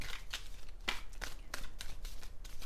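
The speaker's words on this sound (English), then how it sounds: "I'm going to give it one more shuffle here." Playing cards are shuffled in quick riffling bursts, a steady papery flutter repeating several times, close and clear with no talking.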